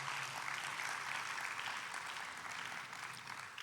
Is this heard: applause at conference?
yes